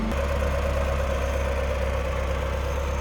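A 1988 Pontiac Fiero's mid-mounted 2.5 liter Iron Duke inline four-cylinder, iron block and head, idles steadily with a low, even rumble and a faint hum above it, close by and running alone throughout.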